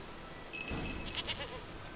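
A goat in The Witcher 3 video game lets out a single short, close bleat over quiet ambience, with no talk.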